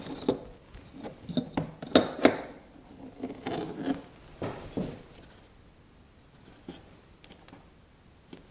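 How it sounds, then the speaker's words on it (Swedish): Masking tape is pulled from the roll and pressed onto watercolour paper, giving scattered short tearing and rubbing sounds that are close and fairly quiet, busiest early and thinning out later. "jag tror att vi gör så att jag tejpar upp ett par stycken"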